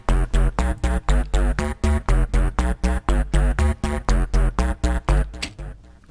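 Looped GarageBand bass line of short, punchy plucked notes in a steady rapid rhythm, about four per second, repeating evenly and fading at the end, loud and alone.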